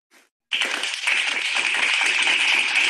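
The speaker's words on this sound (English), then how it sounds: "Can we give her a round of applause?" A crowd breaks into sustained applause, many hands clapping steadily and growing slightly louder after a brief quiet start.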